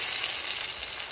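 Fish frying in a pan on a sheet of paper gives a steady, loud, close sizzle with a constant crackling hiss and no voices.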